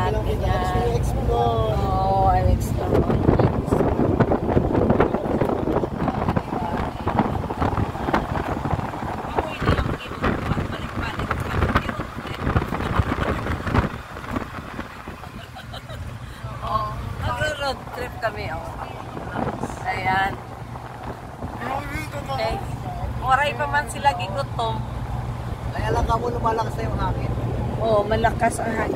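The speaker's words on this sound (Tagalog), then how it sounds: "Malakas ang hangin." Strong wind buffets the microphone throughout near the San Juanico Bridge, a steady roaring rush with people talking over it at times.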